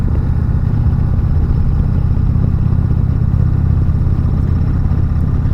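A 2019 Indian Chieftain Limited motorcycle leaning through a corner, its engine a steady, loud low rumble with light mechanical clatter, continuous throughout with no talking.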